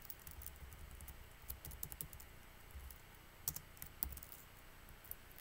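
Students type on computer keyboards in a high school classroom: a steady, soft patter of key clicks with occasional louder taps, close by and fairly quiet, with no talking.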